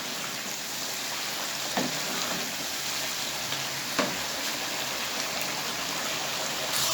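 Tomato puree frying in a chicken karahi for Shinwari-style chicken, giving a steady, close, continuous sizzle with a couple of faint pops and no voices.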